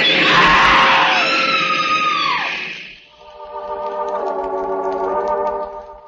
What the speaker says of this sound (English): The woman screams.